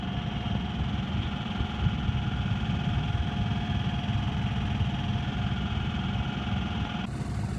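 Sailboat Gecko motoring under its inboard engine at about 5 knots through the Dismal Swamp on a calm day, a steady low idling drone with constant vibration and faint higher hum, unbroken throughout.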